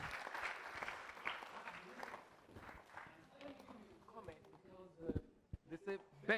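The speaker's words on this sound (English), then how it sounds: "A round of applause for Mr." Faint, distant applause from an audience at a government policy event rolls on for a few seconds, then thins out as voices talk over the fading claps.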